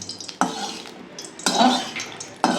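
White oil is spread around a hot kadai holding a little water, giving bursts of loud sizzling hiss as the spatula scrapes the metal in three separate sweeps, with no speech.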